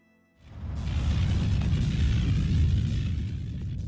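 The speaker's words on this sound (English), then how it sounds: "The party then watch as the tower falls into the ocean and sinks down below the waves with a massive explosion." In the video game Lunar Silver Star Story, a tower collapses into the ocean with a massive explosion, a sudden deep roaring blast that swells within half a second and rumbles on loudly and steadily without fading.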